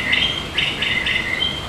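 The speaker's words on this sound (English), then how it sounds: "It's the bird on the left that makes the sound for Bach-Makiri." A pair of bokmakierie birds sing a duet, giving a quick series of bright, clear whistled notes in short repeated phrases, close and prominent over faint background noise.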